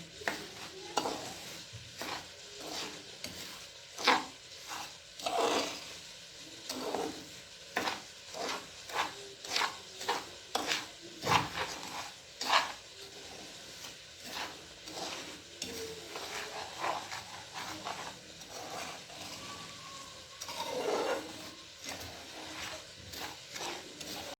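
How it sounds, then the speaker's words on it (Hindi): Sugar cooking in a pan for almond chikki is stirred steadily, a spoon scraping and clacking against the pan in a near, uneven rhythm over a soft sizzle, with no talking. "ऐसे मिक्स करते जाएंगे और ये खुद ही अपने पानी में पकेगा।"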